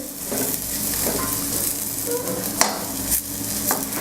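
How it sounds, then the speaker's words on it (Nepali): Potatoes and bitter gourd fry in a pan with a steady, close sizzle while a spatula stirs and scrapes through them, with a few sharper clinks against the pan. "अझै म यसलाई 2-3 मिनेट जति फ्राई गर्छु।"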